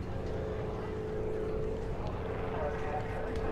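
A Mono single-seat light aircraft powered by a converted VW engine flies at an air show, its steady droning engine hum continuous and moderately loud at a distance, with no talk.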